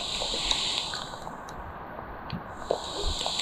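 Overflowing streams pour across a road in Bulbule, Surkhet, after continuous rain; a steady broadband rush of flowing water with occasional splashes, heard from close by and with no voices.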